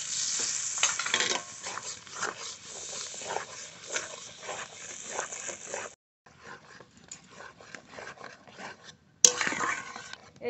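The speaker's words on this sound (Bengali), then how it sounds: "এইভাবে ভালো করে নেড়ে নেড়ে মিশিয়ে নেব যাতে দইটা না কাটে" Spinach paste and strained yogurt are stirred in a frying pan, a spatula scraping steadily through the mixture over a continuous sizzle, with a brief pause partway through.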